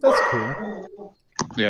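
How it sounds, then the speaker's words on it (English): A dog barks in a garden, short sharp barks mixed in with people talking nearby, with a brief pause before more. "sorry for the barking."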